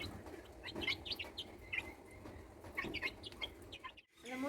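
Chickens cluck and chirp steadily close by, a busy overlapping chatter of hens with soft rustling underneath.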